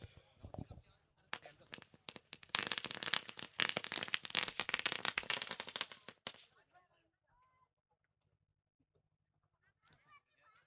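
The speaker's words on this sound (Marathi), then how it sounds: "फटाक्यांची आतषबाजी" Firework bursts during a local cricket tournament match, a dense crackling barrage of sharp pops lasting several seconds before stopping, followed by quiet with faint distant noise.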